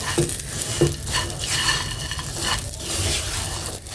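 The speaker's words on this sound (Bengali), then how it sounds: "আমি জালটা খুব আস্তে দিয়ে ভালোভাবে ভেজে নিচ্ছি" Semai vermicelli fries slowly in ghee over low heat with cardamom as it is stirred, producing a constant close sizzle and repeated scraping and clinking of the spoon against the pan.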